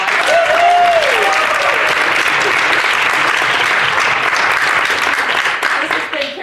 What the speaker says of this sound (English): we all want to give you a big round of applause